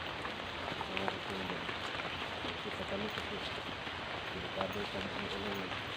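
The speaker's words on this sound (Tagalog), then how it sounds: "malakas na yung ulan" Heavy rain pours steadily in a dense, even hiss with scattered drop impacts, and people talk underneath the downpour.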